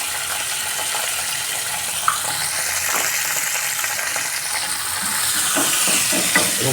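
Cumin paste, turmeric and salt being stirred in a pan for potol posto: a continuous moderate sizzle with scraping spatula strokes, a couple of sharp metallic clinks and some watery bubbling.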